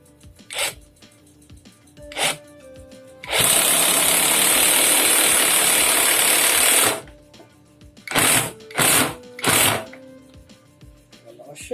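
An OKS impact driver set to minimum torque driving a screw, a loud steady rattling hammer burst of about four seconds, followed by three short trigger blips, with someone talking quietly between.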